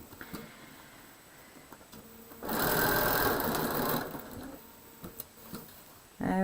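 A sewing machine stitching a quilt block gives a loud burst of rapid whirring stitches lasting about two seconds, with quiet handling noises before and after.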